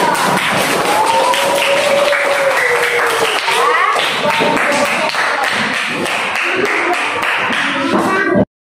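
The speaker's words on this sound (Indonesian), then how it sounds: "kita tepuk tangan untuk kita sendiri ya" A classroom of students applauds themselves, a loud, continuous patter of many hands clapping up close that stops abruptly at the end, with a voice speaking over it.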